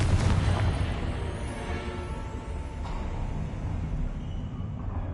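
A Confringo fire spell blasts in the PS5 game Hogwarts Legacy, a dense, continuous low rumble of booms with a faint sharper crack partway through, loud and close, with no talking.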